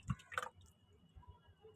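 Water is sprinkled by hand onto small pots of freshly sown adenium seeds: a couple of soft, faint splashes and drips up front, then quiet wet patter.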